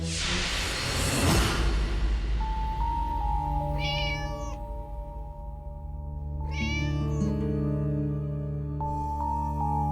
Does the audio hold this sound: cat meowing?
yes